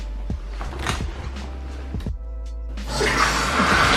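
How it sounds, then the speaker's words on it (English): A shower runs at home: a few knocks and clatter, a brief pause, then a loud, steady rush of water spraying close by to the end. "So I think I'm gonna go take a shower now"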